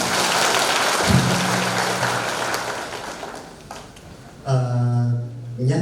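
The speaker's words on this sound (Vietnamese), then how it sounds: "Xin một tràng pháo tay lớn hơn." Audience applause at a community gathering, a dense crowd clapping close and loud for several seconds, then thinning and fading before a sustained tonal sound cuts in.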